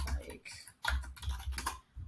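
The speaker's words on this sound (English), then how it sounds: "as I'm typing things in, it's counting" Someone types on a computer keyboard in short bursts of crisp, close key clicks separated by brief pauses while a spreadsheet is filled in, with no talking over it.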